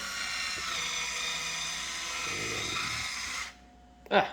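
Cordless electric wine bottle opener whirring steadily as it drives into and draws a cork, a continuous close motor buzz that cuts off, followed by a short sharp pop-like knock.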